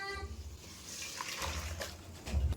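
Boiled cabbage water is poured off from a pot while cooking cabbage-wrapped hilsa fish curry, giving a steady close gushing wash over a low rumble that swells near the end.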